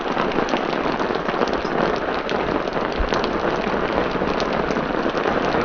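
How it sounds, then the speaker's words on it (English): Heavy rain pours down steadily on a river during a fishing trip, a loud, dense, continuous hiss of drops with no pauses. "It's pouring down."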